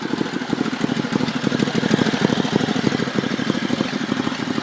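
A 1974 Sears Suburban SS16 garden tractor engine idling with a small exhaust hole, a steady close chugging putter with rapid regular pulses and no voices.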